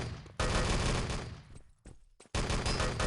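Rifle fire in the Enemy Territory shooter game, with dense rapid bursts of shots, a brief near-silent gap, then another loud burst.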